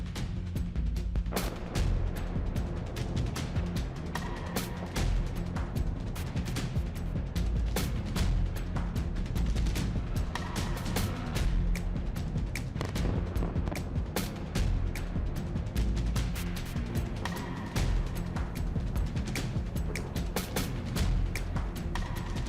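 Russian missile strike explosions crackle and thump continuously in a dense, chaotic barrage of blasts and bursts at moderate distance, with no clear talk.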